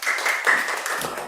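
Brief burst of schoolchildren clapping in an elementary classroom after a teacher's prompt, quick rhythmic claps lasting just over a second.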